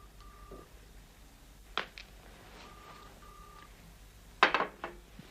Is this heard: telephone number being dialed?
yes